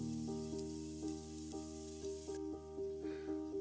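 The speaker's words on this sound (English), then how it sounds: "So we're going to start by frying our onions." Onions fry in a pan for Kenyan matoke, giving a soft, steady sizzle close by over a faint tonal hum, with no talking.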